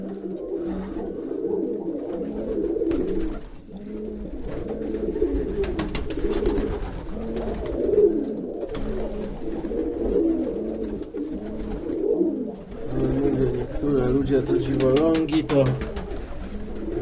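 Pigeons coo steadily in soft, overlapping rounds at a pigeon market in Zgierz, Poland, with a faint murmur of background activity around them.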